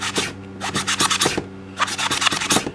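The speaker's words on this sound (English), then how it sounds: "I am able to clean off dirt from the back of my sketchbook" A magic eraser scrubs dirt off the back cover of a sketchbook in quick, close back-and-forth bursts of harsh scratching, in two clusters with a short pause between them.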